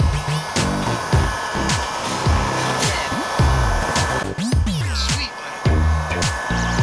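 A hair dryer or heat gun blows steadily and loudly up close while warming a car emblem before it is pried off the paint, its whine wavering as it moves, with a brief clatter midway.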